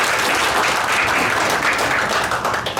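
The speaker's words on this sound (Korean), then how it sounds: "다시 한번 큰 박수 부탁드리겠습니다" An indoor audience applauds at the end of a Buddhist forum at an army hall. The clapping is loud and dense and runs steadily for the whole stretch.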